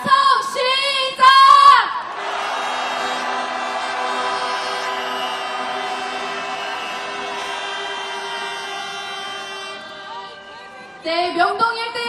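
Protest marchers at a candlelight rally in Myeongdong, Seoul, let out a long, sustained collective shout that lasts several seconds. It is framed by short bursts of amplified talk before and after.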